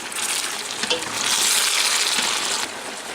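Soy chunks with tomato juice being stirred in a pan, a sizzling, wet frying hiss that swells as the spoon moves, close and alone.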